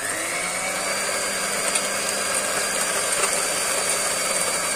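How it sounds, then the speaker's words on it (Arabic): Electric hand mixer beating cake batter made with oil and baking powder, a steady loud motor whine running evenly throughout with no talk. "كوبايه الا ربع زيت، وهنضربه في الميكسر"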